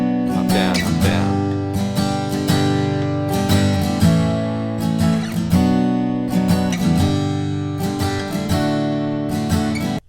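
An acoustic guitar strums the chorus of a song in a full, continuous down-up pattern, loud and close with regular accents and no voices.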